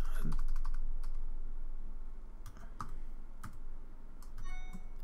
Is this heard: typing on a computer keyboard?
yes